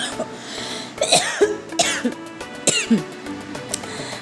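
Several harsh coughs in quick bursts, close and fairly loud, with throat-clearing between them and no talking.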